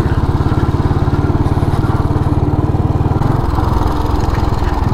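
A Royal Enfield cast iron motorcycle engine runs smoothly with an even, rapid thumping pulse, loud and close, easing slightly in tone toward the end.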